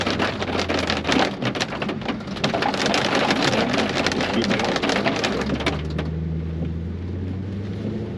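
Steady heavy rain pours down, a dense hiss of drops on surfaces throughout, easing slightly near the end as a low rumble continues.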